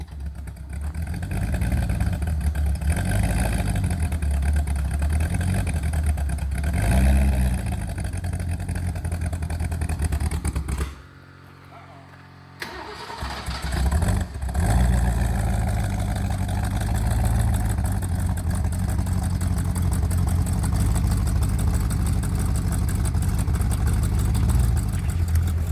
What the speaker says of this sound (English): thanks for firing it up.